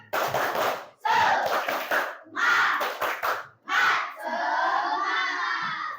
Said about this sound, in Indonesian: Sebelum presentasi kita tepuk semangat dulu